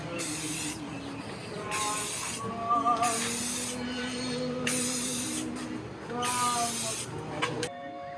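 Spray paint can applying a light tan coat to an airsoft gun, five or six bursts of sharp hiss separated by short pauses, each with a faint rattling tone, close and fairly quiet.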